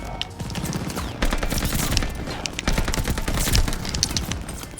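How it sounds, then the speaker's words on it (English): Rapid automatic gunfire in a shooter video game, dense continuous bursts of loud cracking shots with brief dips, close and dominant without speech. "the fucking gunshots are so fucking loud"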